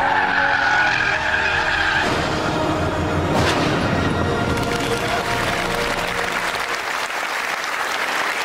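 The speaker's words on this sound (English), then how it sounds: "First time I've ever done a power slide in a home cinema" Tyres skidding in a car power slide, played loudly through a home cinema sound system in a Mercedes-Benz S500: a sustained, dense screech and roar that swells, then thins out toward the end.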